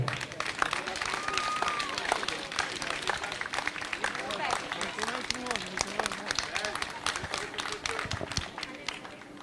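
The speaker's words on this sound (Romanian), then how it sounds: "Pentru a doua oară consecutiv este ales cu aplauze pentru Jérôme France!" A crowd applauds at a rally event in Targu Mures, dense, steady clapping at a moderate distance. An excited announcer speaks loudly over it the whole time.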